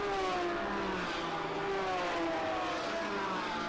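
Lamborghini race car accelerating on the Road Atlanta track during a SpeedTour race, its engine note rising in long sweeping pitch climbs, steady and moderately distant with other cars blending in behind.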